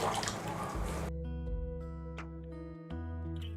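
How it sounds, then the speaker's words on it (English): Hot water pours onto half a cup of dry soya chunks in a short, noisy splashing rush. It stops after about a second, leaving a quiet kitchen hum. "we're going to pour hot water"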